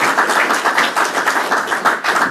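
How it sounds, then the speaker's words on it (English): A crowd at a New York governor's Staten Island port project announcement claps loudly and steadily for Peter, sustained dense applause close to the microphone. "Let's give Peter a round of applause as well."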